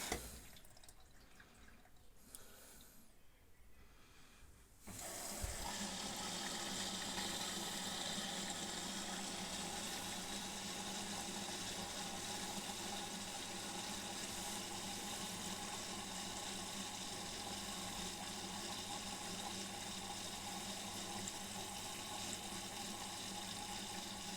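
After a quiet start with faint dripping, cold water suddenly gushes in and keeps flowing steadily into a washing machine under repair, a constant hissing rush.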